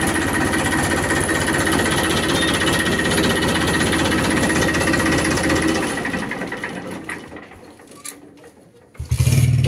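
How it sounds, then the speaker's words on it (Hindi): A cold 2011 Massey Ferguson 241 tractor's diesel engine idles with a loud, steady, rapid clatter, running evenly without smoke before the sound dips and a closer thump arrives near the end. "ठंडा ट्रैक्टर है, फिर भी इंजन बहुत बढ़िया बोल रहा"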